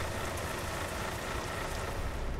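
Gentle rain patters steadily on the roof of a truck cab in Euro Truck Simulator 2, a dense, even hiss of drops close overhead with no voices.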